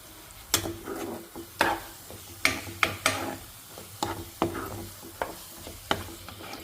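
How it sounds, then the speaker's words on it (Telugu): Bitter gourd stir-frying in oil in a pan, with a steady sizzle and about ten sharp scraping clicks of a spatula at an uneven pace, close and fairly quiet, no voices. "దీనికి ఆయిల్ వేసి మళ్ళీ ఒకసారి కలిపేసి వేయిస్తాను"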